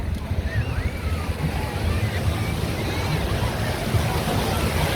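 Sea waves wash against the shore under blowing wind, a continuous rushing surf with gusty wind buffeting the microphone, steady and fairly loud throughout.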